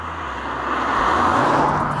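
A 2018 Mazda MX-5 drop-top drives along with a steady engine hum and road and wind noise that swell slightly over a couple of seconds, heard from inside or close by.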